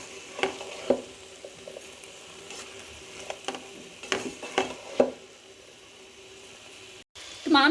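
Vegetable and cheese samosa filling is mixed in a pan with scattered spatula knocks and scrapes over a faint low sizzle, fairly quiet overall with a brief gap near the end.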